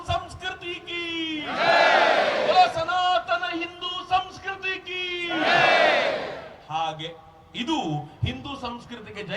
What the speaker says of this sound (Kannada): ಎಲ್ಲಿ ನನ್ನ ಜೊತೆ ಎರಡು ಕೈಗಳನ್ನ ಕೆತ್ತಿ ಜೈಕಾರ ಕೊಡಿ